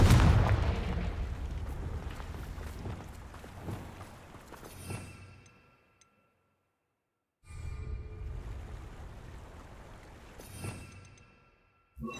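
Spell explosions from Bombarda and Confringo in the Hogwarts Legacy video game: loud, low booming blasts with rumbling decay, two bursts separated by a brief silence.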